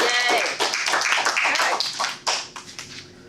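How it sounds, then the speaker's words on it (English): A Toastmasters meeting audience breaks into a short burst of clapping mixed with cheerful voices and a whoop, then the sound quickly thins out. "So let's go ahead and clap on our mission"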